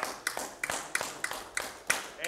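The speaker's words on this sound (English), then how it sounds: "Give the Lord a hand clap tonight." Church congregation claps hands in a steady rhythm, about eight sharp claps spaced roughly a third of a second apart, moderately near with a soft room echo.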